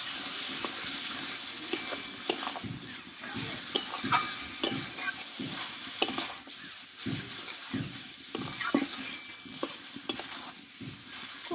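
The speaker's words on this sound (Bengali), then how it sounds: "7 থেকে 8 মিনিট মতো ধীরে ধীরে আমি কষে নেবো চিকেনটা।" Chicken is stir-fried with spices in oil, producing repeated close scraping and stirring strokes over a constant low sizzle, with no talking.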